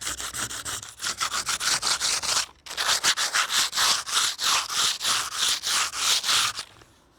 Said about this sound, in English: what you can do is rub them off very simply with sandpaper